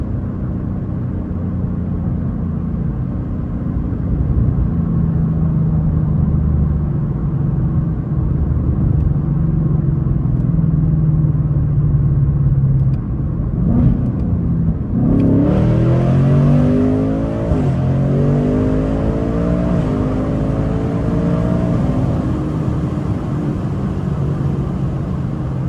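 A 2024 Ford Mustang GT fitted with Steeda air filters, its carbon traps removed, rumbles along at low speed, then opens up from a 30 mph roll into a loud, rising V8 roar that climbs through the gears, heard from inside the car.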